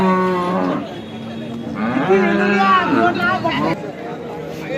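An HF cow at a cattle market moos loudly and repeatedly, long drawn-out lowing calls up close, with faint background chatter from people nearby.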